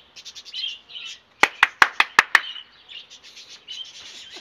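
A budgerigar chirps in quick, bright bursts nearby, with a run of sharp rapid clicks in the middle before the chattering resumes.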